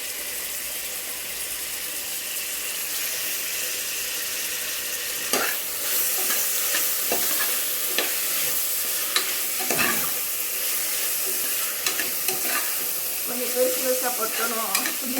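Mint and coriander leaves sauté in a pan for beetroot biryani: a steady frying hiss, then repeated stirring scrapes and clinks from about five seconds on, close and fairly loud.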